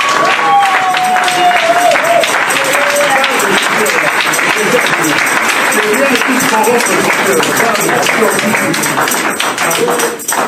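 A church congregation bursts into sustained, loud applause that fills the room for the whole stretch, with voices and cheers mixed in and a voice carrying above the crowd early on.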